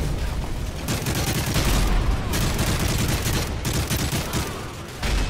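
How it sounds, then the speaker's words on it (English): Dense in-game gunfire from Call of Duty: Modern Warfare 3, with a steady fusillade of rapid shots and automatic bursts filling the whole stretch, loud and close with no pauses. "I'm getting shot at."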